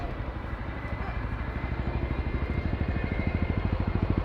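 An RAF Chinook display helicopter at an air show passes close and loud, its rotor chop building into a steady rapid thudding beat over broad engine roar, with crowd and commentary murmur beneath.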